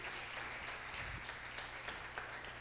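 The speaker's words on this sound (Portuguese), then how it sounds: "Dá um forte aplauso a Jesus, a nossa equipe aqui." A church congregation applauds in a steady, wash-like roar of many hands, heard faint and somewhat distant throughout.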